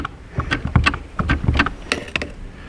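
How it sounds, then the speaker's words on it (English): A Nissan Sentra's shift interlock clicks and disengages as the brake pedal is pressed, a series of small close mechanical clicks and knocks in quick, uneven succession. "we hear the shift interlock disconnecting"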